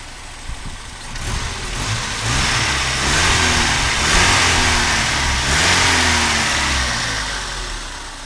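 A four-wheel drive vehicle's engine, recently brought back to running condition, idles roughly and then revs up several times in sustained, loud surges close by.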